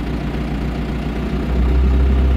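The diesel engine of a John Deere 2140 tractor idles with a steady low throb, then swells into a deeper, louder drone as it is given a few revs, with no voices over it.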